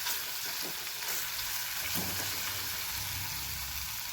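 Red chili powder masala sizzling in hot oil for a dried cowpea curry, a steady close crackle and hiss running throughout with a few soft stirring knocks.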